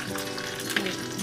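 Mustard seeds hitting hot oil give a dense, steady sizzle with a brief crackle partway through.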